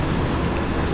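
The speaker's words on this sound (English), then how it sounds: "Here's another train." A train at Kunming railway station rumbles past close by, a loud, continuous low roar of wheels and carriages throughout the brief moment.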